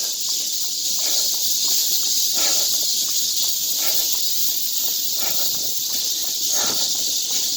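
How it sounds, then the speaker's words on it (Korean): Cicadas drone in dense, high, continuous buzzing along a tree-lined jogging path around Seokchon Lake in Jamsil, Seoul, on a hot summer day near 28°C, with faint rhythmic footsteps and scattered soft knocks underneath. "매미들의 울음소리가 시끄러우실 겁니다"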